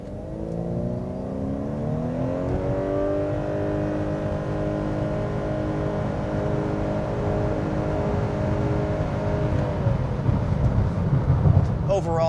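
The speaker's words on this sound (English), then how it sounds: "you get a lot of that sort of engine rev kind of sound when you give it full throttle" A 2020 Honda CR-V Hybrid engine drones at full throttle, its pitch climbing steadily and then holding in a sustained rev under road and wind noise inside the cabin.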